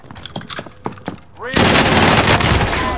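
Rapid gunfire from a video game shooter erupts halfway through, loud and sustained after quieter earlier bursts and tones.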